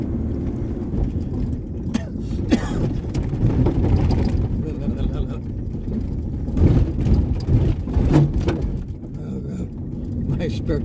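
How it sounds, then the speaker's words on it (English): Loud, continuous rumble and rattle from inside a pickup driving off-road, with a spare tire chained in the bed clattering, plus occasional knocks and bangs over the steady engine and road noise. "My spare tire makes a lot of noise."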